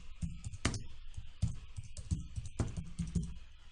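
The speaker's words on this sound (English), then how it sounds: "now let's type web thickness" Quick, close typing on a computer keyboard, a run of light clattering keystrokes with uneven rhythm and a few harder taps, no talking over it.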